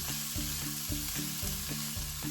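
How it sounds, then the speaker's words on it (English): Cabbage cooking in a pan on low heat, a steady sizzle and frying hiss with regular stirring scrapes about every half second, close and alone. "So I have this cabbage on a low heat."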